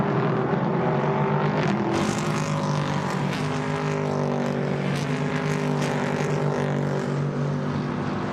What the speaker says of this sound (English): The cars sounding wonderful here in the evening sunlight at the Red Bull Ring.